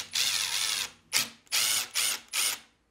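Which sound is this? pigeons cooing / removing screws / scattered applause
removing screws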